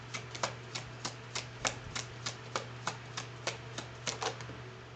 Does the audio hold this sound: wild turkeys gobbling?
no